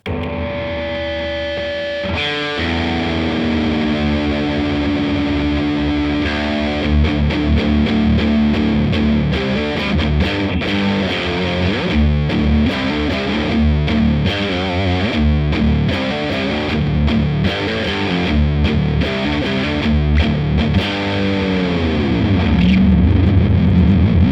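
An electric guitar plays through heavy distortion with a scooped metal EQ and boosted contour, delivering loud sustained chords and chugging palm-muted riffs for over twenty seconds with no talking.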